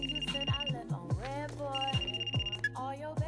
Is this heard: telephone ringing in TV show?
yes